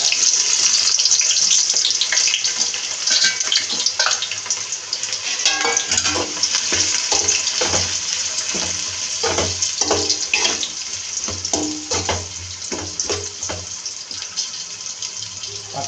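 Onions dropped into 200 ml of hot oil for chicken biryani frying with a steady, loud sizzle, broken by repeated clattering stirs and scrapes in the pot throughout.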